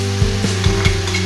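Vegetables sizzle steadily in a hot pan while chopped carrots go in, giving a few soft stirring thumps over a constant frying hiss, close and fairly loud with no talking.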